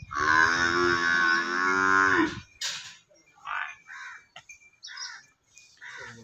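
A Nili Ravi buffalo on a farm gives one long, loud, close moo lasting over two seconds, followed by faint scattered bird calls and small noises.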